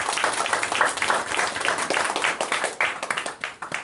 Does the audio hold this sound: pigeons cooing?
no